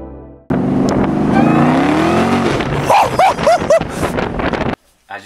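A silver metallic SVT Cobra with an intake pulley, tune and aftermarket exhaust, roaring close and loud as its engine drones and climbs, then snaps through several quick rev blips before abruptly cutting off.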